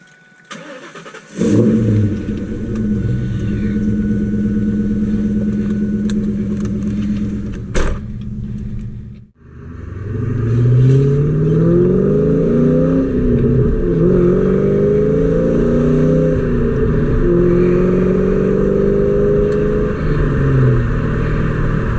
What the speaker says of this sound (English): today we're just going to be going for a little POV driving in the Mustang